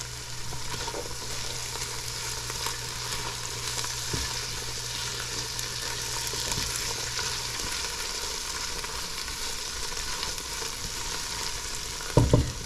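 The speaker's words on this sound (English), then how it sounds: "I'm going to put some of these beans in here. Let them all saute." Beans sautéing in a pan for yellow minute rice, a steady broadband sizzle and crackle with a low hum running for the first half and a brief clatter near the end.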